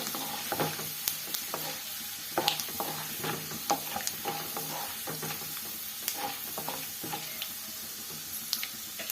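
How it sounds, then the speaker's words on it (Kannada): Chana dal and urad dal frying in oil in a pan for hotel-style capsicum rice, a steady close sizzle broken by repeated sharp scrapes and clicks of a spoon stirring at an uneven rhythm, with no talking. "ಈಗ ಈ ಥರ ಸ್ವಲ್ಪ ಫ್ರೈ ಮಾಡ್ಕೊಬೇಕು. ಸ್ವಲ್ಪ ಬ್ರೌನ್ ಕಲರ್ ಆಗೋವರೆಗೂ ಫ್ರೈ ಮಾಡ್ಕೊಂಡ್ರೆ ಆಯಿತು."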